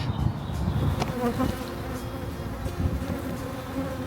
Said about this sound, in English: we now have about 50 colonies of bees on the estate